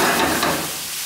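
Chicken livers and onions browning in a hot pan give a steady close sizzle with a little stirring, fading slightly over about a second.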